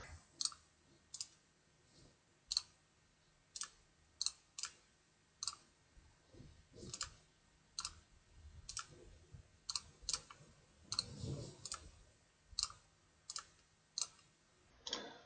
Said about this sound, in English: I just click away a little bit and then click back on the region of interest.